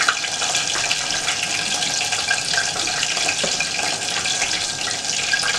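Water runs steadily from a tap into a cooking pot, a continuous bright splashing rush at close range without pause, with no talking.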